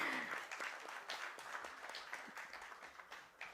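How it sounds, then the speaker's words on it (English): Applause from the audience at a stock exchange listing ceremony for Ellenbarrie Industrial Gases Limited, a fairly quiet, continuous patter of many clapping hands that rises and dips slightly over three and a half seconds. "They deserve a big round of applause"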